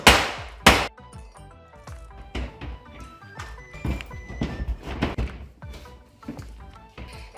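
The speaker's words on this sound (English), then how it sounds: "Anytime I hit this with a hammer, I get such a horrible ringing in my ear" A hammer strikes the metal floor of an Eagle bus during an RV conversion, with two loud ringing blows up front followed by a run of quicker, lighter knocks and clanks, close by and alone.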